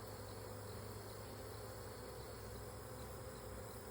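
Honeybees buzzing close by during a backyard hive inspection, a steady dense drone lasting the whole moment, with no voices.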